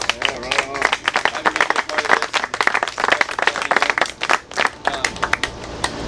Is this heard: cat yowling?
no